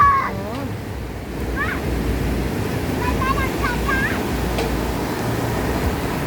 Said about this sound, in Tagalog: Ang dagat na malakas, ang alon.